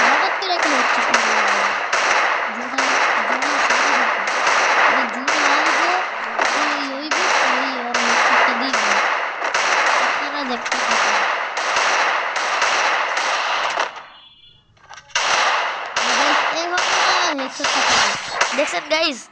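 Rapid bursts of gunfire from a shooting video game, a dense run of sharp repeated shots with a short pause near the end before firing resumes, loud and continuous, with a voice speaking over it.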